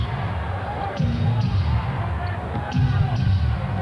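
Arena crowd at a 1993 Suns versus Magic NBA basketball game chanting "defense" in a steady two-beat rhythm, the chant swelling twice, loud and close, with a broadcast announcer's voice running over it.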